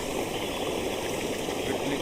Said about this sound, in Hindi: कितनी अच्छा पानी बहाव।